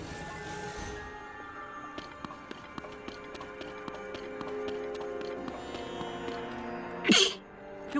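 A single sharp human sneeze bursts out near the end, loud and close, over soft video game music and light tapping footsteps from The Legend of Zelda: Tears of the Kingdom.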